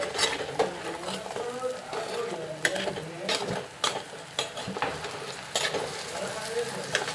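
Crab roast frying and being stirred in very hot oil on a gas stove, a steady loud sizzle with scraping stirs and occasional sharp clinks of the spoon against the pan, no talk.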